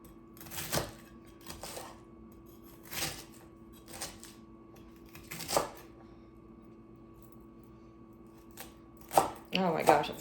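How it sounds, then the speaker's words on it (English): A knife roughly chops vegetables on a cutting board, five or six distinct sharp knocks spaced irregularly across the stretch, close and crisp, ending in a quicker cluster of cuts. "and I'll give these a rough chop"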